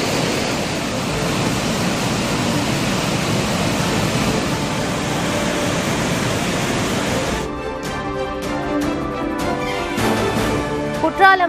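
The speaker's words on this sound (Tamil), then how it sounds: "குற்றாலம் மெயின் அருவி" Courtallam main waterfall in heavy flood, a dense continuous roar of rushing water for several seconds before giving way to music.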